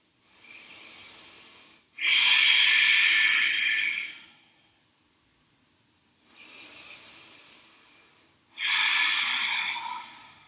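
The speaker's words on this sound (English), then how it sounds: "Really breathe that Ujjayi breath." Ujjayi breathing in a yoga pose: slow, hissing ocean-like breaths close to the ear, two soft inhales alternating with two louder, rasping exhales, separated by brief silences.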